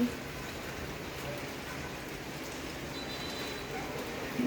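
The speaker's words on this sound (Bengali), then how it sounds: "কি পরিমাণ বৃষ্টি হচ্ছে" Heavy rain falling outside, a steady dense hiss of drops that continues at an even level from start to end, with no voices.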